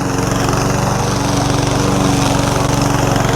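A cheap Chinese remote-control lawn mower runs close and loud with a steady, unbroken motor drone and rapid pulsing buzz, with no voices.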